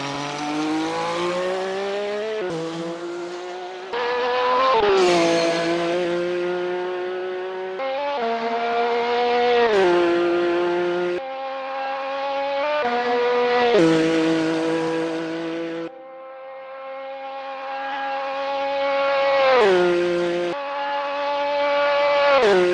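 Race cars at the 1997 24 Hours of Le Mans, recreated in the video game Assetto Corsa: a loud engine climbs through the revs, upshifts, and climbs again, with sharp gear changes and a brief lift off the throttle partway through.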